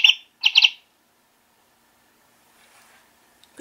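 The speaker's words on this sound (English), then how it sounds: "As soon as chickadee stops, you push him to activate his chirping sound." A toy chickadee gives a burst of bright, high chirps, followed by a quick second cluster of three chirps; then near-silence with faint rustling and a soft thump at the end.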